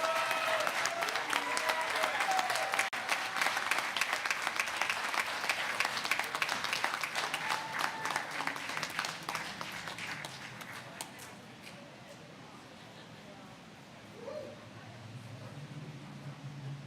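An audience at an accessibility awards ceremony claps loudly in sustained applause that gradually thins and fades out over the latter seconds.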